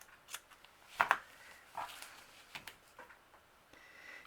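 Scissors snip through fabric while a Christmas dress ornament is trimmed to reduce bulk, giving a few quick close cuts, a sharp double snip in the middle among lighter rustles.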